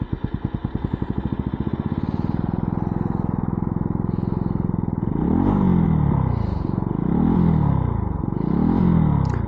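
A stock-exhaust Benelli TNT 125 motorcycle cranks with a rapid starter clatter, then fires up into a steady close idle, followed by three light throttle blips that rise and fall.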